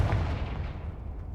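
Confringo blast spell explosion in the video game Hogwarts Legacy, a loud booming low rumble that decays over about a second and a half, with no voices.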